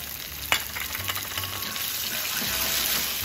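Soy sauce poured into pickled radish stir-frying in a pan, a sharp hiss on contact followed by a steady loud sizzle, close up with no talk.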